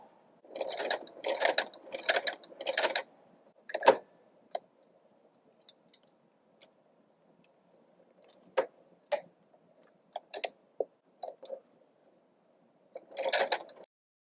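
A sewing machine stitching an invisible zipper into fabric, running in short mechanical bursts of rapid clicking and whirring, separated by quiet pauses and isolated ticks.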